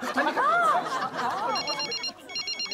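A telephone rings in a sitcom scene, electronic trilling bursts repeating toward the end, following voices and laughter at the start.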